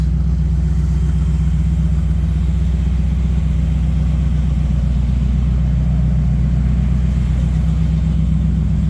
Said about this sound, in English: I'll show you how good it revs.